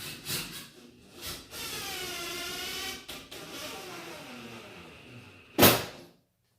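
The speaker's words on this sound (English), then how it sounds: "Okay, so I'll grab the other screws and put them in." Screws are driven into a closet door track with a powered driver, making a whirring, rising whine between brief rubbing scrapes, and a sharp click near the end.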